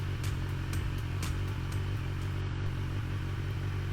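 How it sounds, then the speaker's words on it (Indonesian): Motorcycle engine running steadily while riding past large houses, a continuous low droning hum with faint clattering ticks, moderately quiet and without talk. "Ini suara motor merdu juga ya, berisik"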